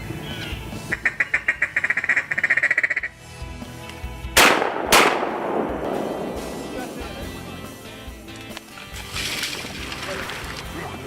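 Two sharp shotgun blasts go off in quick succession while waterfowl hunting, near and loud, preceded by a rapid series of duck quacks and followed by fading echo and outdoor noise.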